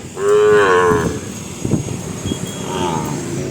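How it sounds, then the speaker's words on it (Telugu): A young cow calf of about five months lets out a single loud, drawn-out moo close by, followed by quieter background noise and faint movement sounds. "కోడె పొంచులో ఉన్నటువంటి ఆవుదూడ"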